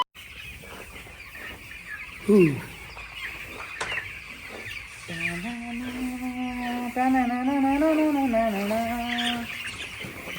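A chicken clucks close by in a run of throaty, repeated calls, with a sharper squawk early on and a longer drawn-out cackle toward the end.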